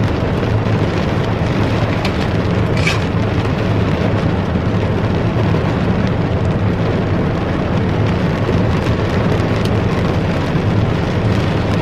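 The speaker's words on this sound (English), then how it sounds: "I can't believe the rain is coming down so hard." Heavy rain pours down in a dense, unbroken roar of steady hiss that stays loud for the whole stretch, with no voices.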